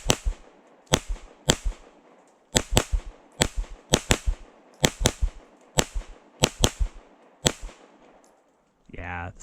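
Rapid single shots from a Fusion Firearms XF PRO striker pistol as a magazine is fired, about fourteen sharp, loud cracks in quick, slightly uneven bursts, followed by a brief different sound at the end.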